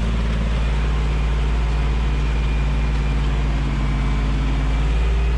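A John Deere 1950 tractor engine drones steadily and loudly while pulling a disc harrow across a wet field, a constant low heavy rumble with no talk.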